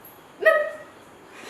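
A person imitates a dog's bark during a challenge game, giving one short yelping bark-like call that then trails away into quiet.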